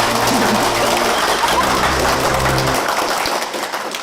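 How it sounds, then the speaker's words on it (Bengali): An audience claps at a company stage event, a dense, loud patter of many hands that stays steady before thinning toward the end, with some voices mixed in. "হয়ে যাক আরেকবার হাততালি"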